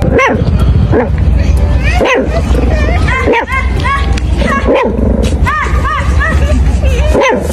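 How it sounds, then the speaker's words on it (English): Repeated high-pitched yips and barks from a puppy, fairly close, over a loud steady background with some voice mixed in. "Puppy barking."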